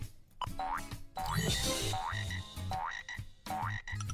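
Cartoon frog croaks paired with springy rising boing jumps repeat roughly every second in a jumping-frog game for learning animal names, set against bright, continuous game music.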